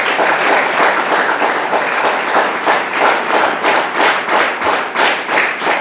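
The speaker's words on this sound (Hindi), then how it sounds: "ताली बजा सकते हैं खुदा की महिमा के लिए?" A church congregation claps together in a steady, rhythmic beat, many hands striking in unison at close range with no talking over it.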